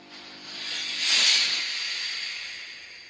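Spray starch hisses onto a business shirt during ironing, one soft continuous aerosol burst that swells and fades over about three seconds, close and alone.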